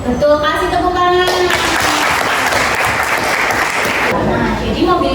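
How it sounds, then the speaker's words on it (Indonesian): Students in a classroom clap together for a classmate's answer, a dense burst of applause that swells for several seconds, with a teacher's voice audible at the start and end. "Betul, kasih tepuk tangan."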